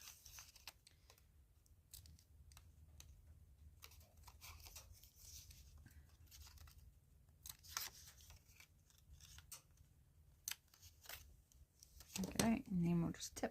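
Several crisp snips of a corner rounder trimming the corners of a craft card, close up, with soft rustling and handling of paper in between and a louder cluster of clicks and crunches near the end, a voice talking quietly over parts.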